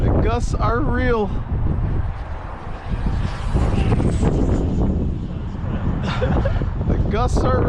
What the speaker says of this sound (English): The gusts are real.